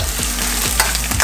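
Scallions frying for Jamaican stew chicken are stirred in a pot, giving a few quick scraping strokes over a steady close sizzle, with no voices.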